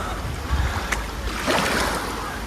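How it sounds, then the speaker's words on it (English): Ocean waves lap against a tropical island shore at El Nido, Palawan, in the Philippines, a steady wash of surf with a swell building midway, mingled with light wind noise and no talking. "The waves lapping against the shore."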